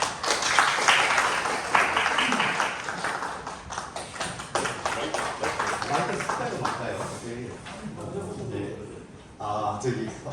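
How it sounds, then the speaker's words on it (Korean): Audience applause welcoming a guest lecturer at a regional innovation and science policy seminar in Busan, a dense patter of clapping that swells and fades unevenly over ten seconds, with some murmuring and shuffling mixed in. "오늘 강연해 주실 김병기 본부장님을 큰 박수로 환영해 주시기 바랍니다."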